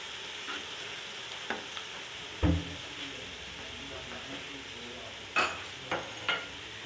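Onions fry gently in a pan over low heat, making a soft, steady sizzle broken by a few spatula scrapes and clinks against the pan.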